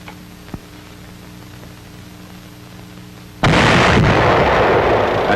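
Wartime gunfire from a tank destroyer going into action on a captured street in France, 1944–45: a sudden loud, sustained blast of noisy fire bursts in after a quiet stretch and roars on to the end.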